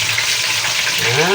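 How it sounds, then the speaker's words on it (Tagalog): Tofu fries loudly and close up in a pan, a continuous hissing sizzle with a short voice sound near the end. "At yung ating naman pong tokwa, ang ating ipiprito."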